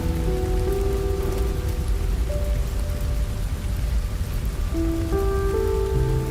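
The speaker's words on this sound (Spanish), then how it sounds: "la lluvia empeoraba. Se estaba volviendo una tormenta." Heavy rain pours steadily in a continuous loud hiss, with low sustained tones running beneath it.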